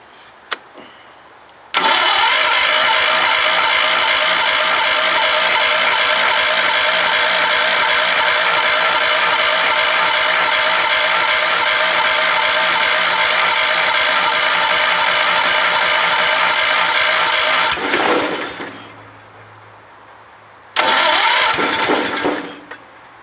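A Kohler engine on a cold start with old parts cranks slowly in a loud, steady rhythmic churn for about sixteen seconds. It catches and fades, then a brief second burst of cranking follows after a pause.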